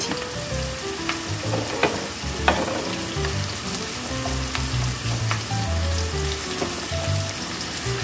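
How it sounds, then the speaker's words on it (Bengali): Shrimp hit a hot pan of frying onion, garlic and green chillies, a dense, close sizzle with scattered pops and stirring scrapes that keeps going steadily, with no speech. "এবার আমি চিংড়ি মাছগুলো দিয়ে দিচ্ছি।"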